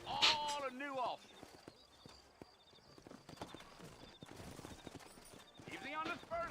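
Horse hooves clip-clop in the Red Dead Redemption video game, a loose run of close, sharp knocks under a game soundtrack, with voices talking at the start and again near the end.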